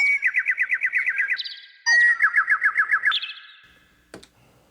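A Donner DEP-20 digital piano plays a synthesized birdsong voice: two bursts of rapid repeated chirps, each ending in a higher trill, then a brief sharp click, clear and close.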